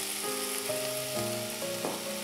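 Chicken pieces sizzle steadily as they brown in a pan with paprika, a close, even frying hiss with a few faint clinks of a utensil and no voices.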